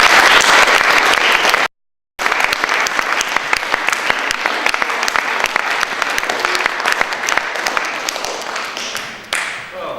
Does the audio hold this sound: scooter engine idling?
no